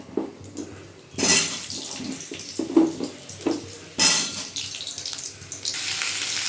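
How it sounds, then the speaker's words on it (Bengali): Potato pieces frying in oil in a pan after pointed gourd was fried in the same oil, with loud hissing bursts as pieces go in, then a steady close sizzle, along with clatters of the pan and utensil. "এবার ওই একই তেলে আলুটাকে ভেজে নেব"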